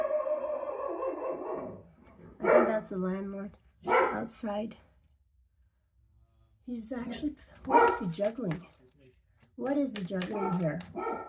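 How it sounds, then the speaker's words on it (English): A dog barks in short bursts close by while a person talks over it, with quieter pauses between the barks. "Sorry about the barking."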